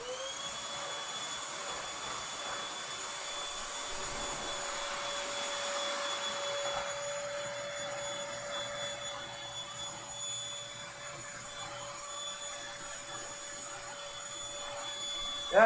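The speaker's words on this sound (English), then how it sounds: "Hold on, I'm getting the vacuum." Vacuum cleaner runs indoors in a bedroom, a steady whining hum with a sustained high tone, moderately faint and unbroken throughout, no talk.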